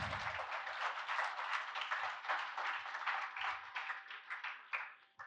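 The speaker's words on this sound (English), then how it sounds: "I do want to give a round of applause to absolutely everyone" Applause at a college banquet, a room of steady clapping that stays fairly faint and gradually thins into scattered claps.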